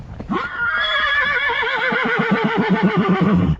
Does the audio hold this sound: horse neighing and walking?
yes